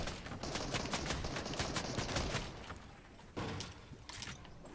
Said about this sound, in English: Shots everywhere.